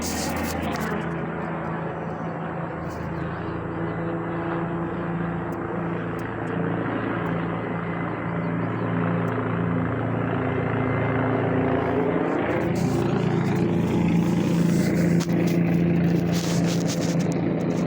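An airplane passes overhead as a steady, loud engine drone that runs the whole time and swells slightly louder and rougher toward the end, with no talking.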